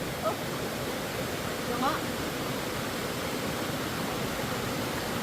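Steady broadband rush of flowing water fills the scene, loud and continuous, with a couple of faint voices briefly audible underneath.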